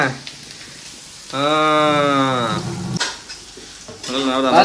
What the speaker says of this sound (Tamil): நல்ல வதக்கு வதக்கு வதக்கு